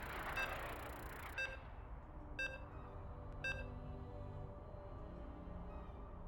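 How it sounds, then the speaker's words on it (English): Short electronic beeps sound while a StarCraft 2 match loads in an online tournament, three or four separate tones spaced about a second apart over a low, steady background hum, with no talking. "You can hear the beeps."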